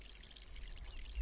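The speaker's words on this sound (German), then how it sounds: "Und einmal gießen." Watering plants in the video game My Sims gives a short, soft splashing pour of water, faint and steady over a low background hum, with no talking.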